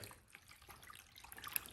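Brief, faint splashing and sloshing of water in a bucket being shaken by hand to mimic oil moving in a car's oil pan, soft and close with a small splash near the end.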